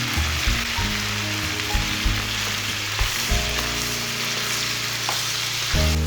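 Ginger pieces, green chilies and tomatoes frying in a pan, a steady bright sizzle with crackles and occasional stirring scrapes, close and continuous without talk.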